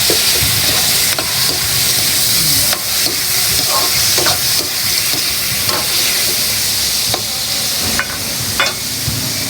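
Chicken breast sizzles loudly in a pan with onion while being stirred, bringing a steady hiss broken by repeated scraping and clicking strokes of the spatula up close.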